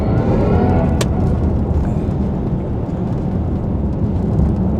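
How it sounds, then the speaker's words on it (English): Mini Countryman SE electric car driving in go-kart mode, giving off a steady synthetic drive hum with a flutter like a small turbo, loud and continuous throughout with no talking. "And it even sounds like it's got a little turbo flutter."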